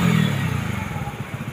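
A Splendor motorcycle engine shifts gear, giving a brief low rumble with a quick dip in revs and light mechanical clatter, close by with no talk.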